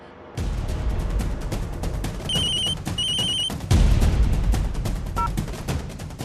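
A telephone rings in two short electronic bursts, mixed into loud, busy background noise with thumping impacts.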